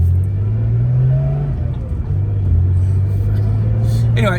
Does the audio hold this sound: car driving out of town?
yes